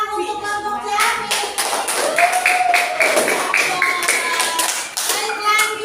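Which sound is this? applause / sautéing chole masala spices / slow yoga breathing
applause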